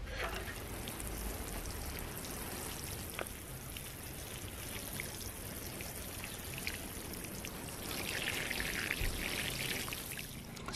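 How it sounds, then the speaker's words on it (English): Water poured from a can or hose onto freshly planted sweet potato (kūmara) slips in a small urban garden bed, a steady close patter and trickle on soil that swells louder near the end. "just give them a water"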